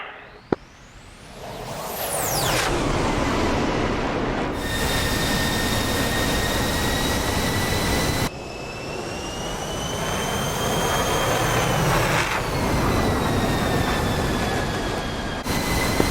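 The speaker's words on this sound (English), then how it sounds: "Now land the dang plane." A jet aircraft lands in the DCS flight simulator game, with a sustained loud engine roar and whining turbine tones that shift in pitch, broken by abrupt cuts.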